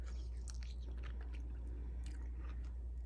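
Close, wet chewing and biting on a home-canned orange slice cooked down with its skin, soft squishy mouth sounds repeating over a steady low hum, with no talking.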